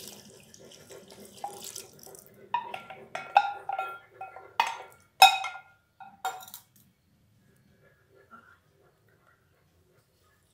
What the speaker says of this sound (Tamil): உப்பு மோரும் ஊற்றிட்டேன்.